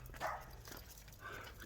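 A dog barking on a walk through an Arizona subdivision in Rancho Sahuarita, two short faint barks about a second apart over quiet outdoor background.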